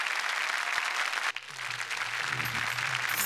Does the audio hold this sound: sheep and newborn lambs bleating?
no